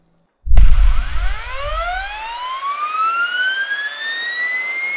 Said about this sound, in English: The heart of MiniLab is the SR30 gas turbine engine.